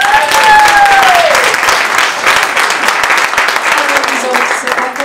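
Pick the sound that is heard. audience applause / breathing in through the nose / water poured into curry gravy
audience applause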